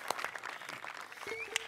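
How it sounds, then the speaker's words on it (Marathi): Audience applause for poet Chikda on a comedy stage show, a short burst of clapping with a couple of sharper claps standing out over a steady crowd wash. "जोरदार टाळ्या कवी चिकडासाठी"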